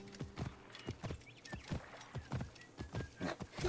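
Hooves of a horse walking slowly in the video game Assassin's Creed Origins, a steady, soft clip-clop of evenly spaced thuds, close but quiet, with faint ambient tones behind.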